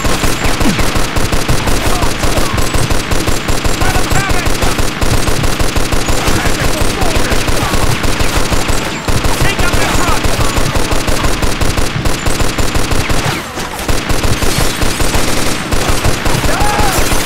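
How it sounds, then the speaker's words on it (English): Mounted balcony gun in the video game Mafia 2 firing nonstop: a loud, dense, rapid automatic rattle that keeps going with barely a break for the whole stretch. "See that gun on the balcony, Scaletta?"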